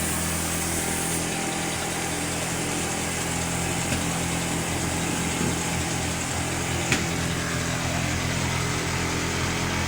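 An engine idles steadily and evenly after its loose timing chain was repaired and its valves were replaced, a continuous close mechanical hum with a faint tick near the seventh second and no talking.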